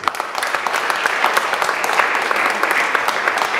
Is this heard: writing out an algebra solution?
no